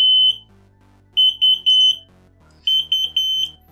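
An Arduino flood detector in standby alarm mode emits high, piercing electronic beeps in rapid bursts of four or five, repeating after short gaps, close and loud.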